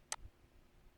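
A single sharp computer mouse click, near and clear, followed by faint low room noise with no talking.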